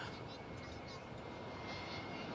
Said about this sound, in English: We've got another Delta flight coming in right now. This is coming in from Los Angeles, flight 738. It's an Airbus A340.